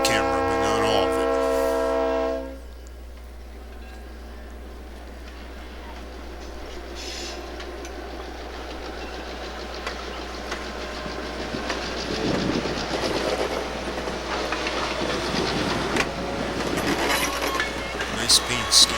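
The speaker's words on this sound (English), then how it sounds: "See that locomotive rocking a bit." A locomotive and train cars of the Kalamazoo Lake Shore and Chicago Railroad pass by, starting with a loud horn blast that gives way to a steady rumble and rattling wheels that swell as the train nears.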